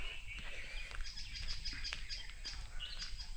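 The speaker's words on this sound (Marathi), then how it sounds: "सकाळी सगळं पक्ष्यांचे आवाज बघा किती मस्त" Several birds chirp and sing at once in a lively outdoor morning chorus, high tweets overlapping steadily over a low background hum.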